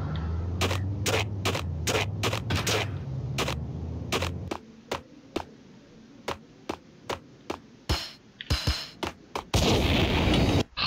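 Gunfire in the original Xbox Max Payne video game: a dense rattle of shots with rumble, then sharp single shots spaced apart, and a loud burst near the end.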